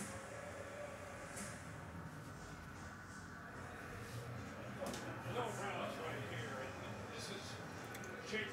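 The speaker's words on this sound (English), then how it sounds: "Another train whistle." Distant train whistle with rail rumble, heard faintly through a busy indoor background where a voice is faintly present.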